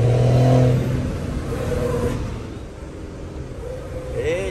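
A car accelerates with a rough engine rumble and whir that swells and fades over several seconds, heard from nearby with background noise.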